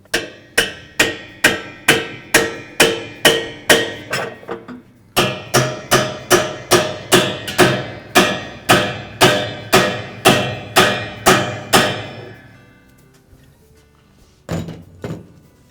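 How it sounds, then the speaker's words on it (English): Spanner wrench tightening the tub seal mounting stem on a Maytag washer, a steady series of loud metallic thunks or taps about twice a second, pausing briefly midway, then fading out with a few last knocks. "with our spanner wrench, we'll tighten this one up pretty good"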